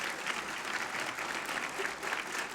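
Steady, dense applause from an awards ceremony audience fills the room, an even wash of many hands clapping without pause, moderately loud and with no voices on top.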